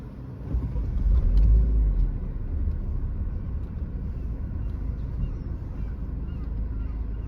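Steady road traffic rumble as cars come off the Center Street Bridge in Cleveland's Flats at rush hour, a broad low drone with a louder pass early on, continuous and moderately distant.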